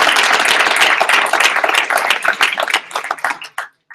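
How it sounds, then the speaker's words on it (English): Dense, loud audience applause at an orientation event, with many hands clapping at once, gradually thinning out and stopping near the end. "give them a big round of applause"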